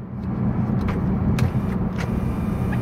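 A steady low electric motor hum with a few faint clicks inside the cabin of a 2019 Toyota Camry XSE as the moonroof slides open, quiet and continuous.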